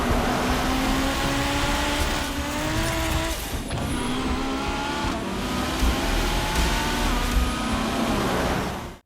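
A Nissan Skyline GT-R R34 races through the street in a film scene. The engine roars and revs loudly and continuously, with changing pitch from gear shifts and brief tire squeals, and the sound cuts off abruptly at the end.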